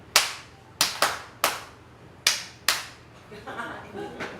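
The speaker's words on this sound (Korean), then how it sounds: "자, 이번에는 박수 여섯 번으로 한번 가겠습니다" Six sharp hand claps at a recreational music class, spaced in a 1-2-3, 1-2-3 pattern with quick decays, followed by faint chatter from the room.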